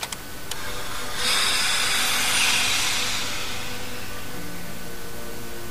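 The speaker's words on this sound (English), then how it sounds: "What did it just let off steam?" Train brakes release a long burst of steam, a loud rushing hiss that swells after a couple of sharp clanks, then slowly fades over several seconds.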